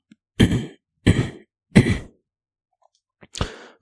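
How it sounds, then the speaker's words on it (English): A man clears his throat up close with four short, harsh rasps, evenly spaced, then goes quiet between bursts. "Excuse me, I gotta clear my throat."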